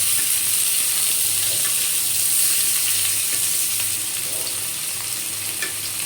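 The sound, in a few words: chopped onions frying in oil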